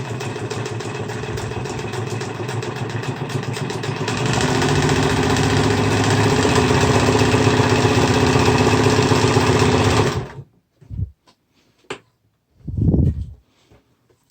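Nelco N15 sewing machine, also sold as the Penncrest P1, running a zigzag stitch: a steady close mechanical whir and rhythmic clatter that speeds up partway through, then stops, followed by a few short bumps.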